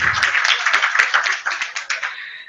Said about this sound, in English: a big round of applause for ourselves